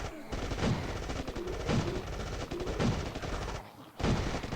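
Turrets fire in the mobile game State of Survival, rapid bursts of loud gunfire that overlap into a near-continuous fusillade and stop briefly before starting up again.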